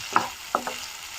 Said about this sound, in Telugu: బాగా మొత్తం మెత్తగా ఫ్రై అవ్వాలి.